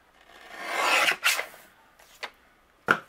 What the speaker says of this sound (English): I'm going to trim a little bit off the top